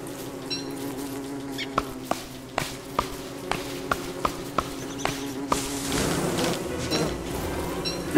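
Bees buzz in the video game Don't Starve Together, a steady droning hum under a regular series of sharp clicking steps, with a brief louder rustle near the end.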